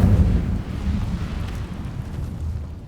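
The Incendio fire spell is cast in the video game Hogwarts Legacy, a heavy, low, rumbling fiery burst that starts strong and slowly tapers off over a few seconds.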